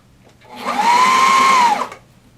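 A sewing machine stitches upholstery fabric for a bar stool seat in one steady whirring burst that ramps up, holds its pitch for about a second, then winds down, close and alone.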